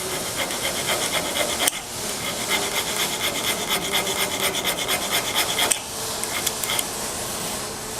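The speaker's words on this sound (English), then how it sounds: "we're going to take this 1/2-inch lock washer and we're going to file the points off from it" Hand file rasping across the points of a steel half-inch lock washer, with loud, steady back-and-forth strokes broken by two brief pauses.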